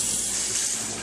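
Cut green and yellow beans are rinsed under running tap water at a kitchen sink before boiling for canning, a steady close splashing hiss with no voices.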